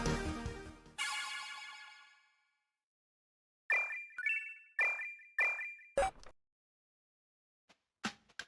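A phone ringtone for an incoming call in the game Soda Dungeon 2, a bright chiming melody in short bursts separated by silent gaps, ending with a few faint clicks.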